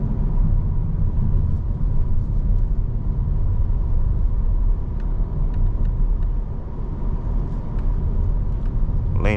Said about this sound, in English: the POV road test of this 2025 Toyota Camry XSE